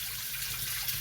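Tap water runs steadily into a sink as hands are washed, a constant close hiss and splash with no pauses and no talking.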